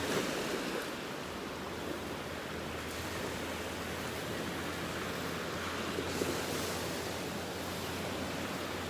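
Steady ocean surf rolls onto a beach in North Naples, Florida, a continuous broadband wash of breaking waves, close and fairly loud throughout with no voices.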